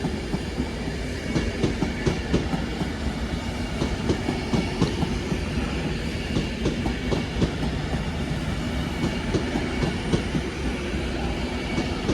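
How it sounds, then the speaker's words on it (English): An Avanti West Coast train running in from London Euston arrives at Crewe with a continuous heavy rumble and rhythmic wheel clicks over rail joints, steady and fairly close throughout. "here comes the 1026 Avanti West Coast service to Liverpool Line Street from London Euston"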